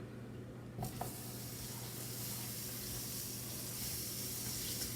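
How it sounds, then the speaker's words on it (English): Butter dropped into a hot skillet already coated with olive oil, bursting into a steady, bright hiss that holds evenly and close for several seconds without speech. "I'm going to add some butter to the pan"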